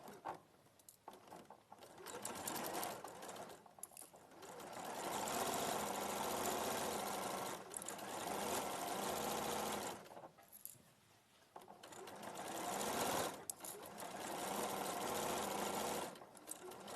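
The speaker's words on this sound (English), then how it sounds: "Okay, so I'm just going to sew the other side as well." A sewing machine stitches a seam in long steady whirring runs separated by brief pauses, fairly close but quiet overall.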